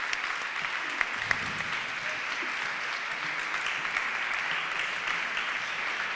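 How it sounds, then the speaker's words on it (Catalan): Loud, sustained applause from an audience at a rural women artists' event presentation in the Vall d'Albaida, dense, even clapping filling the whole stretch without a break. "un fort aplaudiment."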